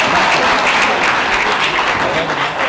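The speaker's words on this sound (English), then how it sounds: "But thank you for the applause." An audience at a 2011 Danbury mayoral debate claps in a loud, close, continuous burst of applause that stays full throughout the short stretch.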